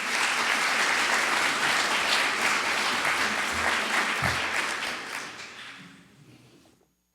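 Loud, sustained audience applause at a university strategic plan reveal in Tacoma, a thick wash of many hands clapping that holds steady for several seconds before tapering off to silence.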